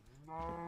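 Short single cow moo from the Minecraft video game, a brief low bovine call swelling and fading in under a second, faint and heard alone.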